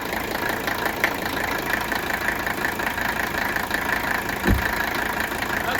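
A diesel car engine idles steadily at a moderate level, its even, slightly knocking rattle continuing unbroken, with a single low thump near the end and no talk over it.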